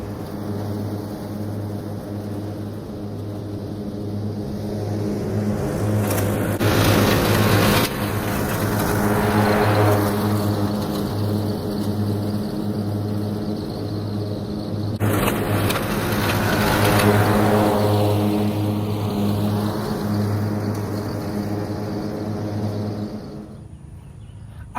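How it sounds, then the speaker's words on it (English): A riding lawnmower mows garden grass down at its lowest setting. A steady engine drone with a low hum runs nearby throughout, swelling twice as the mower passes closer, with no talk. "I'm going to bring the riding lawnmower back over here and mow it down to its lowest setting"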